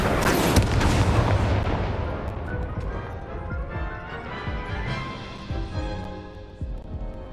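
A fire spell cast in a Hogwarts video game erupts as a loud, dense whoosh and boom, then decays over several seconds into rumbling crackle with scattered thuds.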